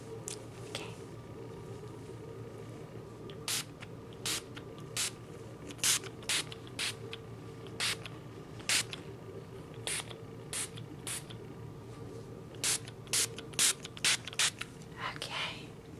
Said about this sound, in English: I'm going to be spraying your hair down